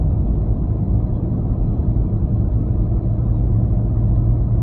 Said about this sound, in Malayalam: നമ്മൾ വളാഞ്ചേരി കുറ്റിക്കോട് കൂറ്റിനാടുക്കുള്ള ലൈൻ ബസ്സാണ്